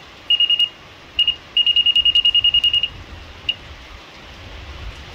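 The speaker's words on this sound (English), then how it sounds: "When it's a faster beep, that's saying I'm high." A laser level receiver beeps in rapid, evenly spaced pulses, signalling it is high, a short run first and then a longer fast series, with one lone beep after.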